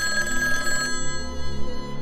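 A telephone rings with a bright electronic bell tone for about a second, then its ringing tail and steady tones carry on, loud and close.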